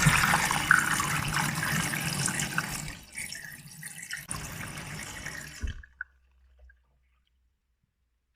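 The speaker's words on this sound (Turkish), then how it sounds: "Şu anda ana yıkama suyunu alıyor." A Miele Softtronic washing machine takes in its main wash water as a steady, close hiss and rush of inflow that stops abruptly near the end, followed by a few faint clicks.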